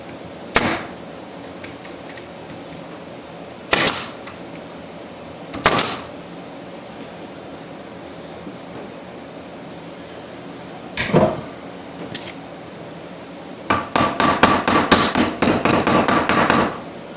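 A pneumatic nail gun, running on a compressor low on air, fires nails into an oak chair being refinished: four separate sharp shots spaced seconds apart, then a quick run of rapid snapping shots at the end, close and loud.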